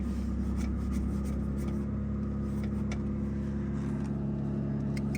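Chieftain tank engine with an electrical fault, steady low engine drone running continuously and loud, with slight rises in revs, no voices.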